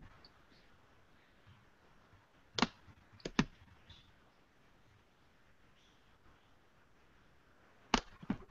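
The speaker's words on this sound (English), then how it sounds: "So I will type them to you, Rio." Faint, sparse keystrokes on a computer keyboard in a quiet room: a few isolated clicks, then a longer pause before two more taps.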